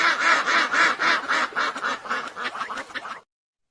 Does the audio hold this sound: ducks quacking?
yes